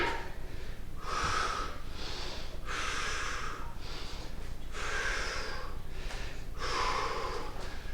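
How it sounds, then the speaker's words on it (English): Heavy, rhythmic workout breathing during a home strength session, with five or six loud, forceful exhalations and snorts in steady sequence close to the mic over a constant low background hum. "You may notice I've changed my breathing on this."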